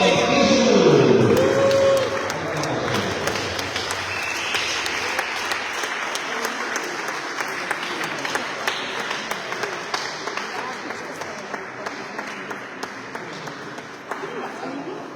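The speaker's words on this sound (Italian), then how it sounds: "Buon applauso a tutti" A crowd applauds steadily at a veterans' award ceremony in Alghero, the clapping loud at first and then easing to a sustained patter, with a voice speaking over the start.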